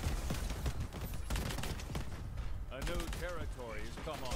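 Gunfire rattles in a Crackdown 3 multiplayer match, dense and continuous shots with explosive crashes, while someone talks over the action in the second half.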